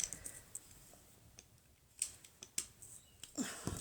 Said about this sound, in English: Maybe I need my scissors for that because it's such a little spot.